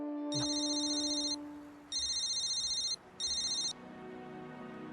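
A telephone rings during an outgoing call, sounding in three loud electronic bursts with short gaps between them and no talk over it.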